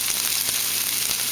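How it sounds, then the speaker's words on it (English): Garlic sizzles in a hot pan for sautéed greens, a steady, loud, dense crackle and hiss with no pauses. "Okay, so the garlic is sizzling."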